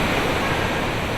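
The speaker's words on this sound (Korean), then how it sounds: "콘 파팽 폭포는 메콩강의 또 다른 얼굴입니다." Khone Phapheng waterfall on the Mekong River roars as a dense, steady wash of rushing water, loud and unbroken throughout.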